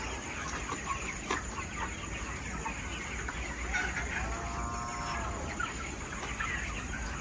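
Hens cluck faintly and intermittently against a steady outdoor background hum, with a few soft calls scattered through.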